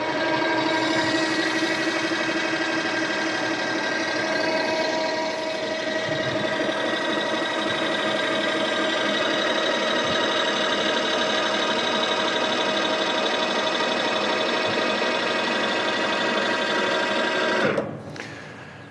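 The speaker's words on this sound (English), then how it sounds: "To close the hopper again, it's a one button operation." Electric tip hopper of a towed paddock sweeper closing at the press of one button, a steady mechanical whir and hum running nearly continuously at close range before cutting off abruptly near the end.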